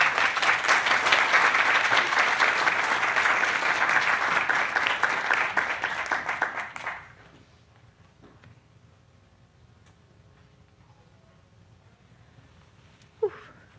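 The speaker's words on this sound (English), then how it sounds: "Another round of applause." Audience applause for children at an art show roars steadily for several seconds, then cuts off sharply, leaving quiet room tone and a single brief knock near the end.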